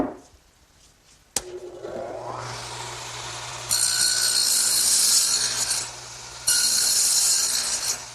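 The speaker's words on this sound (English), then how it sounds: "while I have the dado head set up in the radial arm, I want to make this end piece for my tool storage area" A radial arm saw fitted with a dado head cuts a rabbet joint in a wooden end piece, a sudden bang of start-up giving way to a steady whine, with louder, harsher stretches as the blade bites through the wood.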